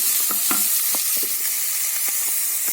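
Green beans sizzling and frying in a pan with cumin, stirred in a steady series of scraping strokes over a constant hiss, close and alone.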